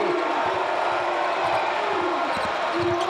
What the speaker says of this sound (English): That gets the crowd going